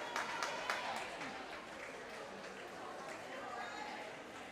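Spectators cheer and applaud for a swimmer nearing the end of the pool at a varsity high school swim championship, a broad, steady crowd roar with some clapping in an echoing indoor pool.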